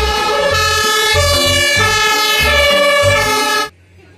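A toy fire truck siren plays loudly, a bright electronic wail over a pulsing low beat, then stops abruptly.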